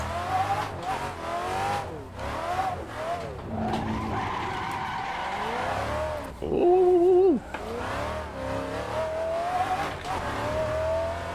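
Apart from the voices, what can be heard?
V8 Nissan 350Z drift car engine and tires, video game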